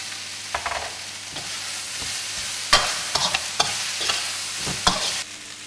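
Rice stir-fried in a pan with ginger, garlic, carrots, peppers and spring onions, a steady low sizzle broken by several sharp scraping, tossing strokes of the utensil, alone with no voices.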